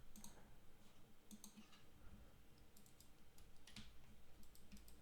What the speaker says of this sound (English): These mouse clicks feel disgusting.